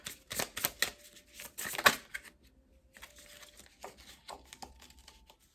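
Tarot cards shuffled in quick crisp riffling bursts, then single cards slid and set down with soft taps, close and fairly quiet.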